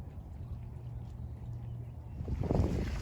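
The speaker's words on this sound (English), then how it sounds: "I'm fighting the wind here a little bit" Low, rumbling buffeting of wind against a microphone outdoors at Eagle Creek Park, steady and muffled, swelling into louder gusts toward the end.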